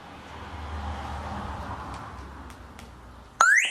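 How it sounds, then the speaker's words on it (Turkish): Low mechanical hum, then a sharp, loud electronic chirp with rising tones near the end as a motorcycle alarm arms. "Alarm on."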